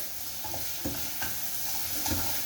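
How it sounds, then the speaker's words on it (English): Steady soft sizzling of courgettes frying in a pan, with a few light stirring scrapes over the continuous hiss; no talking. "you can hear it fizzling here"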